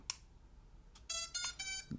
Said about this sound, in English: You hear a kind of an increase in beeps